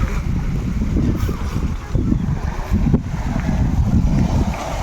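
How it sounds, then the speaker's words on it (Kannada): Floodwater surging over the Marikanive dam overflow, a loud, steady rushing roar with gusty wind buffeting the microphone throughout. "ಸಪ್ಪಳಿಸ್ತಾ ಇದೆ ನೀರು"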